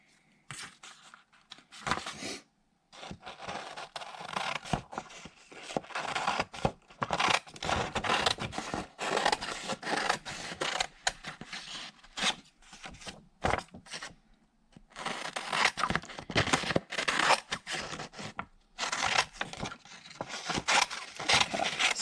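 Scissors cutting out a thick paper number 7 for an art project, a close, irregular stream of crisp snips and paper rustles with short pauses, continuing throughout with no talking.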